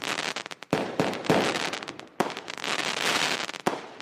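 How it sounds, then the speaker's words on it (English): A continuous barrage of fireworks, with sharp loud bangs punctuating dense crackling across the whole stretch, and no voices. "you know I got to give you those fireworks"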